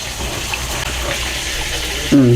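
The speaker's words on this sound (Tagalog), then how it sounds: "Siyempre, lalagyan natin ng tubig." Water pours steadily into a bowl of batter mixture with a soft gushing sound, ending as a voice begins speaking.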